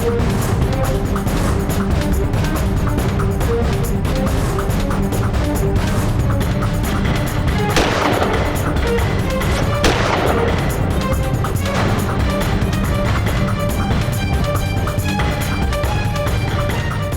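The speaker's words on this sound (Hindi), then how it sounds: "इतनी पास से 2 गोलियां केडी की छाती में और वो भी जिंदा है।" Gunshots in a TV crime drama fire amid a dense, loud action soundtrack, with sharp cracks and booms rolling continuously over driving background music.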